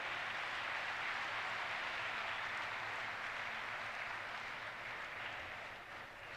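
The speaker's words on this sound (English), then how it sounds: "Let's have a great round of appreciation and applause through the round." Sustained applause from a large audience at a social leadership development program session, a dense steady wash of clapping that holds loud throughout and eases slightly near the end, with no voices over it.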